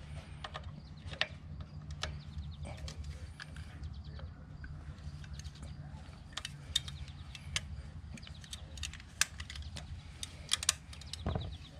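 A T40 Torx bit loosens a primary oil drain plug, giving scattered light metallic clicks and ratcheting ticks at close range over a steady low hum, with no talking.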